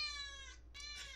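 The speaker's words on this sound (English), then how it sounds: "that's my cat Misty, she's saying hi" A domestic cat named Misty lets out two short meows close by, the second a little brighter, over a faint steady hum.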